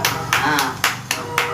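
Hands clap at a child's third birthday party, five or six sharp, evenly spaced claps close by, with a voice speaking briefly between them.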